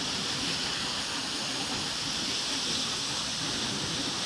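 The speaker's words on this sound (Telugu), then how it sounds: "ఇవే భద్రపల్లి ఫాల్స్. బాహుబలి ఫాల్స్ అని కూడా పిలుస్తున్నారు వీటిని." Athirapilly Falls, also called Bahubali Falls, flows at low dry-season volume, heard as a steady, unbroken broadband roar of falling water from some distance with no other sounds.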